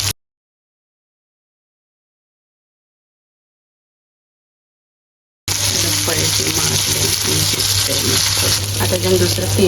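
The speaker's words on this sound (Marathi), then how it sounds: "मच्छी अजून पलटी नाही केली तर आता पलटी करून घेतो" Semolina-coated pomfret rava fry sizzles in a pan, loud and steady for the last four seconds after a long stretch of silence.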